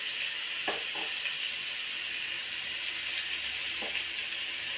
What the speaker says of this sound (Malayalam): ഇനി നമ്മളിത് ഈ ഫ്രൈ പാനിലോട്ട് വെക്കുക.